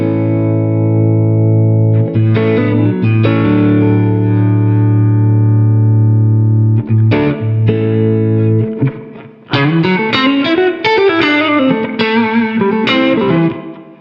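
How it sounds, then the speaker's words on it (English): Heavily compressed, distorted electric guitar through an IK Multimedia ToneX ONE amp modeler plays sustained chords and then busier melodic lines, loud and even with little dynamic variation. "That's a lot of compression."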